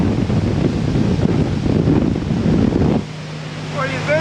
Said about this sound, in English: You can hear when the exhausts come out of the water.